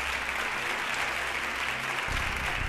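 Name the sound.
audience applause for the conductor and orchestra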